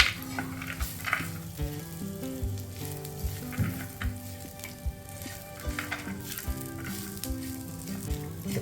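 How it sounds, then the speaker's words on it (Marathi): Cashews, poppy seeds, sesame seeds and onion sizzle steadily in a hot pan at home, with repeated scraping stirs and light clinks of a utensil against the metal over the continuous frying hiss. "काजू खसखस आणि तीळ आणि कांदा हे चांगले परतून घेऊ"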